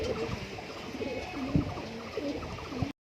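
Pigeons in a fancy pigeon loft, including lotan and American fantail birds, give soft, repeated throaty coos close by over a steady low background murmur.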